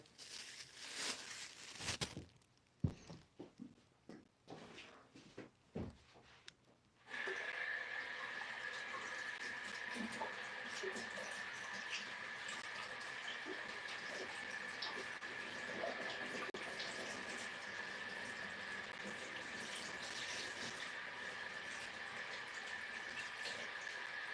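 Red peppers rinsed under a running kitchen tap: after a few seconds of scattered knocks and handling noises, a steady hissing stream of water runs continuously and close.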